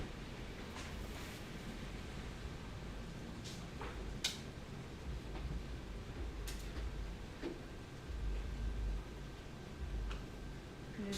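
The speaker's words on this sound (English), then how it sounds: "It is large hail." Large hail, bigger than marbles, strikes a car: scattered sharp knocks and clicks land irregularly over a steady, dense roar of storm noise, with no talking.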